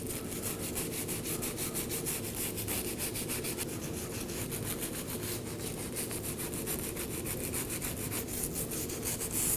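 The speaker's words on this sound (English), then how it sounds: "Now I'll be cleaning the face of the knuckle with a wire brush." Wire brush scrubbing the face of a steering knuckle on a 2018-2024 Chevrolet Equinox, a close, steady, rapid back-and-forth scraping rhythm that continues without pause and with no talk.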